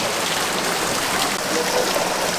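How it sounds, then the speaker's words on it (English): River water flows and rushes continuously in a steady broadband wash, close and fairly loud, with no clearly separate splashes standing out. "now we're going to go for a little splash in the river whilst we've got it to ourselves"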